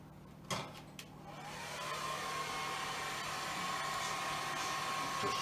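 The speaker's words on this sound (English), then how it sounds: "Now, hair dryer." A hair dryer whirs steadily after a couple of brief clicks, its airy hum swelling slightly louder and holding constant, fairly close.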